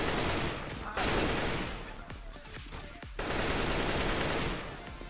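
In the video game CS:GO, long-range automatic rifle sprays fire in dense, loud, continuous bursts, with two brief breaks between strings of rapid shots.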